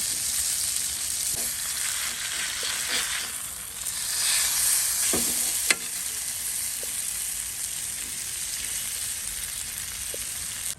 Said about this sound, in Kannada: ಮೀನು ಒಳ್ಳೆ ರೀತಿಯಲ್ಲಿ ಫ್ರೈ ಆಗಿದೆ